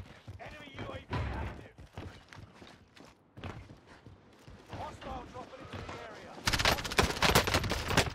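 MP7 submachine gun firing in Call of Duty Warzone on Rebirth Island, with sporadic shots under a player's talk, then a loud, dense burst of rapid automatic fire near the end.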